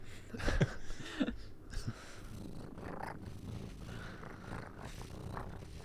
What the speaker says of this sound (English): These are delightful cat noises